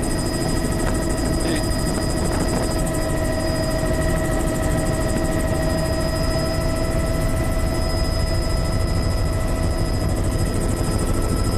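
Helicopter flying by over One Tree Island, a steady loud rotor and engine drone with rhythmic blade chop holding throughout, no voices.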